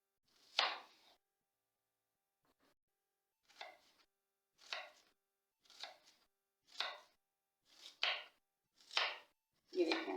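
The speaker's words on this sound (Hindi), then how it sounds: "ऐसे बारीक बारीक इसको मैं काट लूँगी प्याज को।" A knife finely chops onion on a cutting board for bitter gourd and onion curry, landing in a steady series of about ten sharp, close chopping bursts after a short pause near the start.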